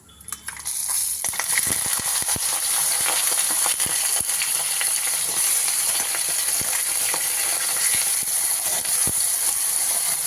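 Vegetables and asafoetida frying in a hot pan, a steady loud sizzle with scattered clicks and taps of a utensil against the pan, running unbroken and close throughout.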